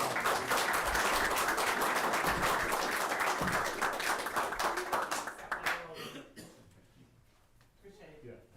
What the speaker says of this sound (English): let's give them a round of applause and thank you all.